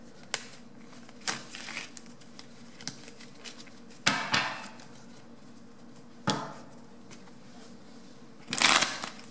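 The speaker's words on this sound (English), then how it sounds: "I can't get the cards shuffled" Tarot cards being shuffled by hand, several separate riffling bursts and soft shuffles spaced apart, close and moderately loud against a quiet room, with one longer flurry near the end.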